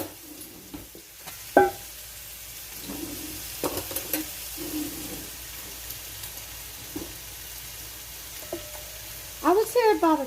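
Avocado is mashed and mixed in a bowl, giving soft, intermittent scraping and squishing through a quiet kitchen, with a brief louder knock early on and a few sharper clinks near the end.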